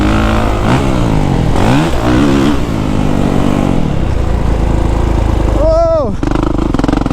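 A 2023 Kawasaki KX450SR dirt bike engine revs hard, climbing sharply through repeated bursts and gear shifts, loud and close, with a rider's voice heard at times.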